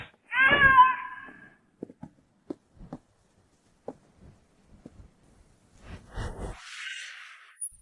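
A cat gives one clear, drawn-out meow close by. Quiet soft taps follow, and a second fainter, breathy meow-like sound comes near the end.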